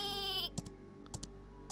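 A sheep bleats in the Worms video game, a short wavering cry at the start followed by a few sharp clicks, close and clear with no talking.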